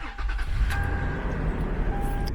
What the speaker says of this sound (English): I'm gonna turn the key to position 2 and actually start the truck.